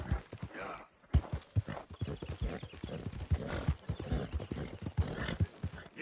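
A horse in Red Dead Redemption 2 gallops in a quick, uneven run of hoof thuds at close range, with brief gaps between bursts.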